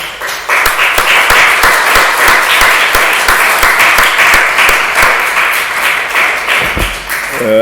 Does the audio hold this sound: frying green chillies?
no